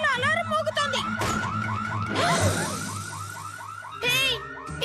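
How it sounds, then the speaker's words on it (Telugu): A cartoon alarm rings from a saucer: a loud run of rapid, repeated rising and falling electronic wails, like a toy siren, with a brief burst of noise midway. "సాసర్ లో అలారం మోగుతోంది."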